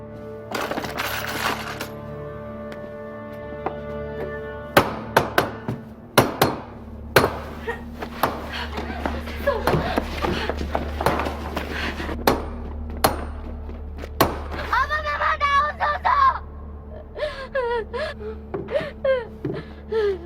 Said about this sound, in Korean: 못을 쳐라.